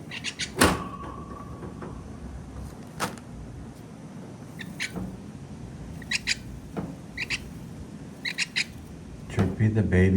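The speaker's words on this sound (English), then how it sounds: "the baby house sparrow. He's only about 3 weeks old." A three-week-old baby bird chirps indoors in short, bright bursts scattered across the stretch, with a few soft thuds and clunks in between and some rustling near the end.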